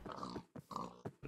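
Pigs grunting and snorting in the Minecraft video game, a few short close grunts in quick succession with brief gaps between them, alone and fairly quiet.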